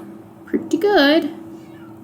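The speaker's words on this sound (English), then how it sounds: "Hang on, that's my cat." A pet cat gives one clear, rising-and-falling meow close by, after a brief spoken remark.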